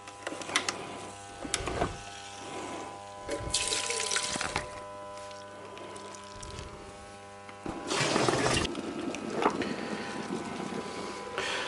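Boiling water for homemade beer pours and splashes into a container in several bursts, over a steady low mechanical hum.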